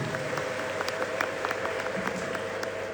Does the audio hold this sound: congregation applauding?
yes